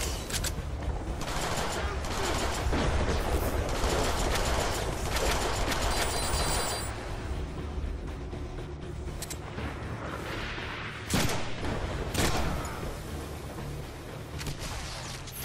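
Dense, sustained bursts of gunfire crackle from a Deadpool video game, rapid shots piling into a near-continuous barrage with louder booming hits, loud and close throughout.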